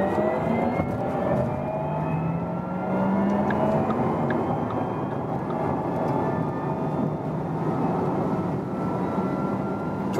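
A Porsche Taycan 4S electric car accelerating hard from 80 km/h on the German Autobahn: a continuous dense road and wind roar with a faint rising whine climbing steadily throughout, heard from inside the cabin.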